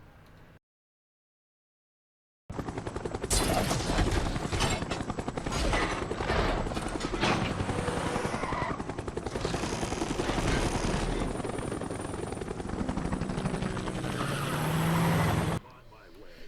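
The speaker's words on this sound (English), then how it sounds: "you have to stay within the bounds of this helicopter while it carries Bumblebee away." A helicopter in Transformers The Game flies while carrying Bumblebee during a race mission: a loud, steady, dense rotor-and-engine roar that runs for about thirteen seconds after a short silence, mixed with game action noise.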